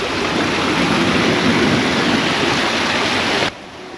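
Water from a village waterfall rushes in a steady, loud broadband roar with no voices, then stops abruptly near the end.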